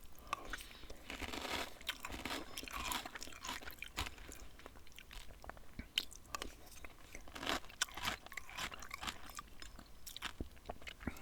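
Froot Loops cereal chewed up close, with crisp, irregular crunches and wet mouth sounds repeating steadily throughout, quiet and intimate.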